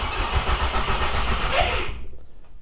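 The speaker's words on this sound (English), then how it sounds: "The starter motor is not disengaging properly." An Audi/VW 1.8T turbo engine swapped into a Nissan Micra cranks on its starter, with a rapid rhythmic churning that is close and loud, then cuts off into quiet.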